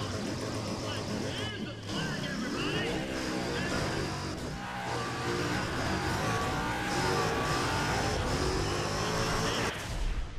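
A Saleen S7 in the Need for Speed ProStreet racing game accelerates on nitro, its engine whining in repeated rising sweeps as it climbs through the gears, loud and steady for the whole stretch.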